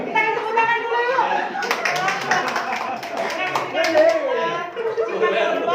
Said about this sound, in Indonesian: Kita tepuk tangan dulu yuk.